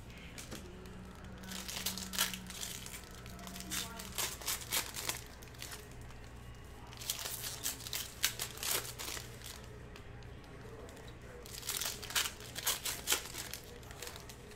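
Plastic packaging around Grade Saver Pro card sleeves crinkles and tears in bursts of rustling, close and fairly quiet, with pauses between the handling.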